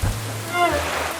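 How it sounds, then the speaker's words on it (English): Rain pours down at a beach in an animated Peppa Pig cartoon, a brief steady wash of watery hiss with a short voice-like tone in the middle. "Oh dear, the rain starts pouring down."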